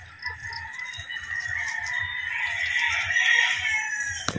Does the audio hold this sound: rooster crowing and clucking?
yes